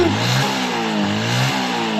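A Honda Wave 110 motorcycle engine with an electrical fault catches and revs up, its steady mid-pitched drone rising and dipping in a couple of throttle surges, loud and close.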